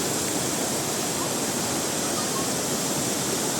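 Tinoyan Falls roars as a dense, steady rush of falling water, loud and close, filling the whole moment without break.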